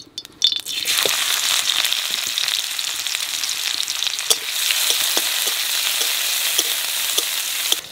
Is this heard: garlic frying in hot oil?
yes